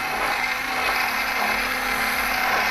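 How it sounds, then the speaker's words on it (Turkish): Potato salad dressing with a special sauce and oil whisked quickly in a bowl, a steady, close, continuous rattling scrape with no pauses and no talking. "Şöyle güzelce biraz daha çırpıp kenara alıyoruz."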